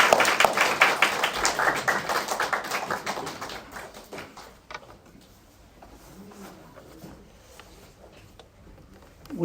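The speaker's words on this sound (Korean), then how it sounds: "우리 박수 한번 하겠습니다." A church congregation at a Sunday worship service applauds, a dense burst of clapping that is loud at first and then thins out and fades to scattered claps.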